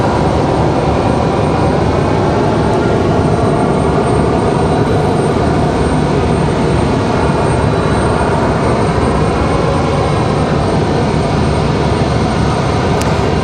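A JetBlue Embraer E-175 goes around at Raleigh Durham airport, its jet engines making a sustained, heavy, even roar that stays loud and close for the whole stretch, with no voices over it.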